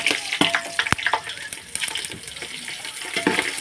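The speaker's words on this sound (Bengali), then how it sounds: "দারচিনি দেওয়ার পর একটু হালকা করে ভেজে ব্রাউন করে তার মধ্যে 4টে লঙ্কা, কাঁচা লঙ্কা চিড়ে দিতে হবে।" Cinnamon and slit green chillies frying in hot oil, crackling and spattering in uneven bursts with sharp pops and a few scraping clicks, close up and without talk.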